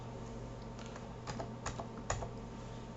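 A few scattered key presses on a computer keyboard click close by during 3D modelling work, sharp isolated taps over a faint steady hum.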